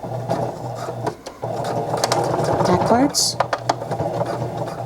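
A sewing machine stitches a diagonal seam across a child's fabric face mask, its motor whirring in quick, steady bursts with brief pauses, running under a person talking close by.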